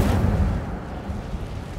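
Incendio fire spell blast in Hogwarts Legacy, a single heavy, booming burst at the start that rolls off into a rumbling, fading roar.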